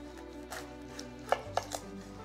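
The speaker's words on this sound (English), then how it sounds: "I'm gonna start by just cutting the top off the pineapple." A knife cuts the crown off a fresh pineapple on a cutting board, giving a few sharp chopping knocks near the middle. Each cut is close and crisp, over a quiet background hum.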